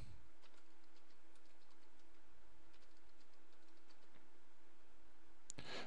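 A password being typed on a computer keyboard, faint clicking keystrokes in short bursts over a quiet room hum, ending with a sharp louder click.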